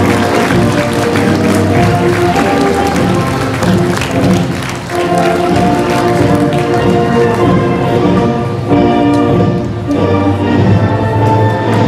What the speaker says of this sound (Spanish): Renovemos el aplauso para estos chiquitines con la bandera nacional.